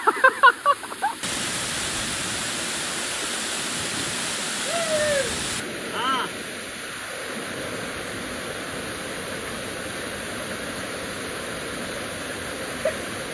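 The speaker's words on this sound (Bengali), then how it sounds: "টোটালি একটা ন্যাচারাল ওয়াটারফল" A natural hidden waterfall near Massanjore Dam in Jharkhand roars as a steady, dense wash of rushing water, broken only by a few brief knocks at the start.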